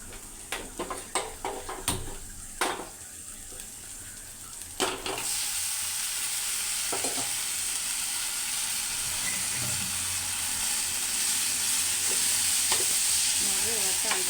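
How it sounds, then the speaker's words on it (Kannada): Bitter gourd frying in oil in a kadai, with a few sharp stirring clinks and scrapes at first, then a steady loud sizzle and hiss that continues on its own. "ಅಷ್ಟೊಂದು ಹಾಗಲಕಾಯಿ ಫ್ರೈ ಮಾಡ್ತೀನಿ"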